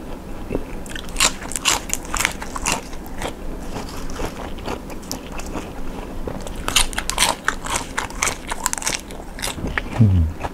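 Crunchy seaweed, salmon and squid with mala flavour, wasabi and soy sauce are bitten and chewed close up, giving repeated loud crisp crunches in an uneven rhythm.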